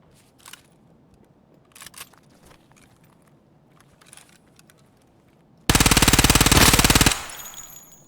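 A Vector submachine gun fires in a video game as one loud, rapid automatic burst lasting just over a second, after several faint clicks and footsteps; a ringing tail follows.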